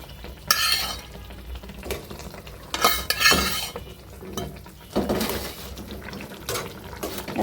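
Fresh fish going into a simmering curry in a Bangladeshi home kitchen, with a spoon scraping and clattering against the pot in irregular bursts over a steady low bubbling and sizzle.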